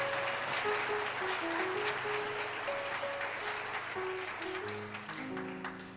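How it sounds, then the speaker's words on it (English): A crowd at an MLK celebration event gives sustained applause for the local police department and its partners, a dense, even wash of clapping with sustained musical notes playing underneath. "One more huge round of applause for our Lawrence Police Department and our partners at Burton Nash"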